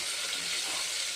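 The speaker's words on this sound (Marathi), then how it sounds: "त्याला छान फ्राय करून घ्यायचं आहे 2 मिनिटं।" Curry leaves and dried red chillies frying in hot oil for a Khandeshi-style dal tempering, a steady, close, loud sizzling hiss that holds evenly throughout with no voices.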